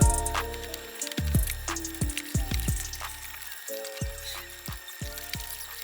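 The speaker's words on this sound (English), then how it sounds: "And now it's time to pour the concrete in" Wet concrete is poured into a planter mold, with thick pouring and sloshing sounds arriving in uneven repeated bursts, close and fairly loud, with no talking.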